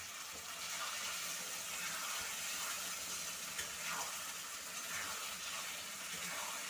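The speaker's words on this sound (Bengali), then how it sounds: "তো এবারে একটু ভালো করে কষে নেব।" Spiced masala for an egg and potato curry sautéing in a pan, giving a steady, dense sizzling hiss with faint stirring scrapes underneath, close and continuous, with no talking.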